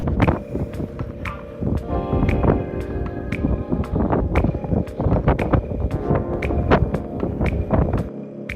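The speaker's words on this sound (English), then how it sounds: "I go brave the Arctic blizzard right now." Strong, blustery Arctic blizzard wind roars steadily against the microphone, with buffeting gusts and rattling bursts throughout; no voices.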